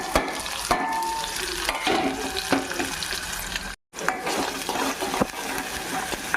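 Onion pieces frying in hot oil with cumin for an Andhra-style mutton curry, a loud, close, continuous sizzle with scraping stirring strokes and a brief dropout partway through.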